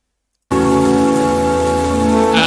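Steady rain from a movie set scene begins abruptly after half a second of silence, then holds as a dense, even hiss with a faint tonal hum beneath it, loud and close throughout.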